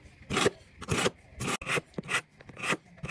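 Knife edge honed on a ceramic sharpener to polish away the burr, heard as a series of short rasping strokes, about six or seven, close and fairly clear with brief pauses between them.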